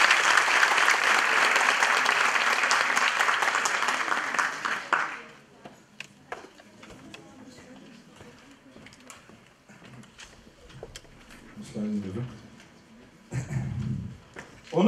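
An auditorium audience at a university rector-student meeting breaks into loud, sustained applause for about five seconds, then it fades into a quiet room with scattered shuffling and brief voices.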